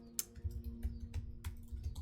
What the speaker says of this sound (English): typing this out, hold on.